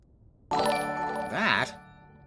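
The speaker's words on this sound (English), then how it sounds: "That is the sound of a follow" A synthetic follow alert chime plays on a game stream, a sudden bright tonal jingle with a warbling rising-falling flourish that ends abruptly after about a second.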